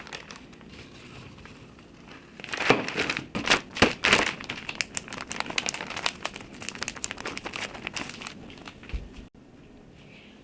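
A plastic freezer bag crinkles loudly as it is handled for packing apples, a burst of dense crackling rustles that fades to lighter intermittent crinkles and then stops.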